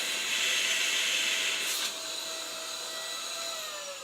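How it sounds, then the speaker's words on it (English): An unheated air blower that works like a hair dryer, used to clean a Laserbox 40W laser engraver, gives a loud, steady jet-like whoosh that drops slightly in level partway through, with no talk. "This is like a hair dryer, but with no heat. So it sounds like a jet engine."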